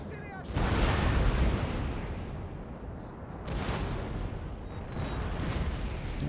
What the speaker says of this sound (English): let's just let the guns shoot at will now